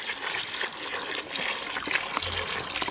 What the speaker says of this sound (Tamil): குழம்புக்கு தேவையான அளவு தண்ணி சேர்த்துக்கலாம்